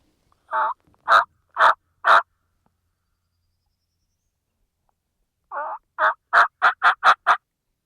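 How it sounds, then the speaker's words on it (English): A wild turkey gobbles in the open: three or four separate calls, then after a pause a quicker run of about six gobbles, clear and fairly near against a quiet background. "He gobbled once."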